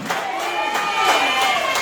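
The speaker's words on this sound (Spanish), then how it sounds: "Den un aplauso al Señor si es tan amable" A church congregation claps and cheers in a sustained crowd roar, with voices rising through the applause at moderate loudness.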